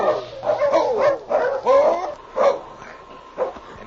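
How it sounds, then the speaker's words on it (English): A big fighting dog shut inside a crate barks and yips in a run of several close, fairly loud barks with whimpering tones and short pauses between them, with no talk. "the crate that held the big dog named Killer"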